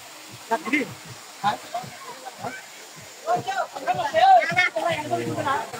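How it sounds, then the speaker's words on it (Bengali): Steady rushing water from the Rishang waterfall in Khagrachari, where people are bathing, runs as a constant wash beneath excited voices that talk and call out throughout. "ঝর্ণা ঝর্ণা"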